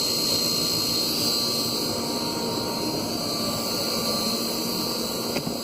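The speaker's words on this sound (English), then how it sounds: "the only thing that makes hardly any noise is the flame and that air pump" A LANAIR XT-75 waste oil heater runs with a constant, even roar of flame and air pump, steady and close with no change and no voices.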